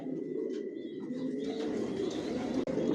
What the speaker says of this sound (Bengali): এখানে যে কবুতরগুলো দেখতেছেন এগুলো আমার মাস্টার পেয়ার রানিং পেয়ার